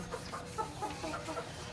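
Chickens cluck in short, scattered bursts as they are caught, faint and somewhat distant over low background noise, with no one speaking.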